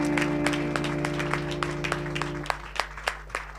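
A church congregation applauding to acclaim God, steady clapping over a low humming tone that cuts off midway, leaving sharper, more separate claps toward the end.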